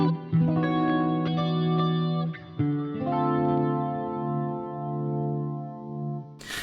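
EART GW2 headless electric guitar on both pickups through a compressed amp, a few plucked chords and notes ringing out clearly with sustain, a short pause and re-strike partway, then decaying.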